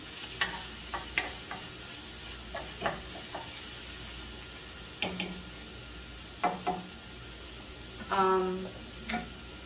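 Onions fry in a pan over lowered heat in a home Bangladeshi kitchen, a steady low sizzle broken by repeated clinks and scrapes of stirring, with a brief voice near the end.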